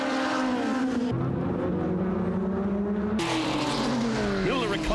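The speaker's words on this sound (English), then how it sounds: "A brave move by the power-built car of Andy Knight came to nothing when he locked up and spun" Toyota Racing Series car locking up and spinning off the circuit, loud continuous engine drone with shifting pitch and abrupt changes, tyre noise mixed in, heard under race commentary.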